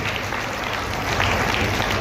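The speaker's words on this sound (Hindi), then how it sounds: "तालियों की गड़गड़ाहट से स्वागत किया जाए।" A crowd gives a thunderous round of applause to welcome a guest at a public gathering in Bhuna, Fatehabad, a sustained, thick roar of clapping that swells slightly midway and continues without pause.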